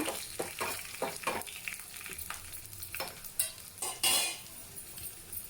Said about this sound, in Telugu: పోపు కాస్త నల్లగా వేగితేనే బాగుంటుందండి